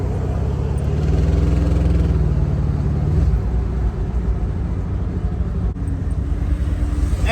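A 1972 Chevrolet Impala convertible with a swapped-in LS3 V8, heard from the ride along as a loud, steady engine drone whose pitch rises and then shifts, no voices.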